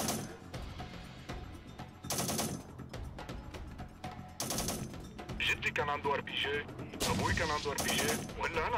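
Repeated bursts of gunfire from the PC war strategy game Syrian Warfare: Return to Palmyra, with loud rattling volleys and machine-gun fire coming in waves, mixed with mechanical clatter and a busy battle din.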